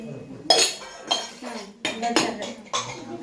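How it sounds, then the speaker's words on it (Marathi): Metal vessels clink and clatter as they are lifted during a bride's home-entry ritual, a few sharp close knocks in quick succession with faint voices in the background. "उचला भांडी"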